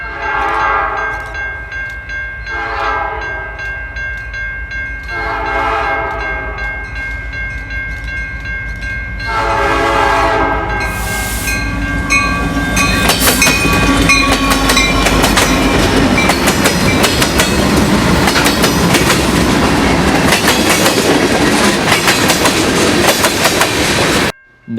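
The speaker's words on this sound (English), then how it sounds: "a westbound manifest with CN 5790 in charge passes the yard at Griffith" Westbound CN manifest freight led by locomotive CN 5790 passes a rail yard at Griffith, repeated loud horn blasts giving way to a steady, close rumble and clatter of cars rolling by.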